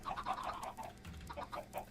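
Minecraft chickens cluck in a quick run of short, nasal bursts, fairly close and steady, with no talking over them.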